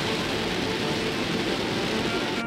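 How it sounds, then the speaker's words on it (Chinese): Heavy rain pours during a drive down a winding, fog-covered mountain road in Nan, Thailand, a dense, steady hiss that fills the whole clip with no pauses and no voices. "开始又下起大雨了。"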